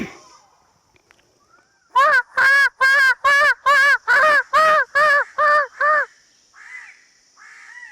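A human voice imitates a bird call: nine loud, rhythmic, nasal honking cries in steady succession, followed by a couple of softer trailing calls.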